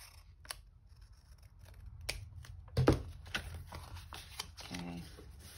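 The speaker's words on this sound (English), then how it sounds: "just trim right along this edge where I didn't get it quite in the pocket without cutting the envelope edge" Scissors trim paper along an envelope edge in close, quiet snips, a few crisp cuts spaced irregularly with soft paper rustling between them.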